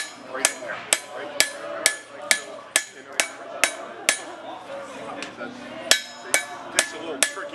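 A hammer strikes sheet metal to shape the fins of a fish sculpture, about fifteen sharp, ringing blows in a steady rhythm, close and loud.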